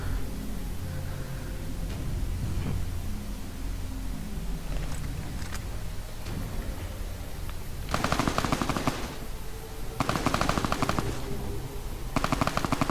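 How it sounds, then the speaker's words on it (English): Rapid automatic gunfire in the video game Fallout: New Vegas, dense bursts of shots over a constant noisy background, with longer loud volleys toward the end and no talking. "Must be shooting at a ghoul."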